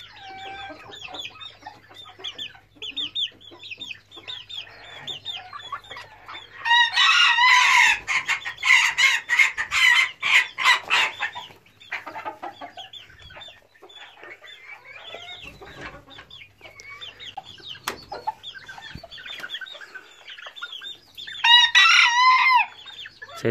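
Silver and gold Sebright chickens cluck and crow close by at feeding time, with bursts of loud crowing around the middle and again near the end over steady clucking.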